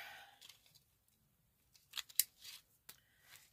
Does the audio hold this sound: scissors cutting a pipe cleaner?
yes